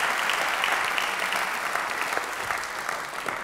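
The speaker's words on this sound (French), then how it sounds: "Donc je vous laisse l'applaudir avant." Steady, full audience applause fills a French lecture hall after a speaker is presented with a gift, dense clapping throughout that fades slightly near the end.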